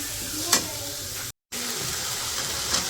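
Spice paste frying in a pan with bay leaves and cardamom, a steady soft sizzle with occasional stirring scrapes, fairly quiet throughout with a brief dropout.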